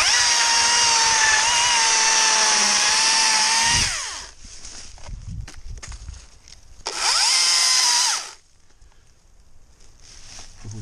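A chainsaw with a small bar roars up close for several seconds while cutting a felling notch in a tree, drops to a rough idle, then revs hard again in a second short burst before settling back.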